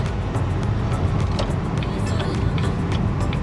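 A car drives along a residential street in Hull, Gatineau, with a steady, close engine and tyre rumble from inside the car throughout.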